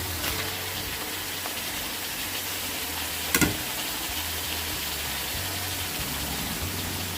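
Pork pieces stir-fried in coconut milk and green curry paste for Thai green curry, a steady close sizzle and scraping stir with one sharp clatter midway, no voices.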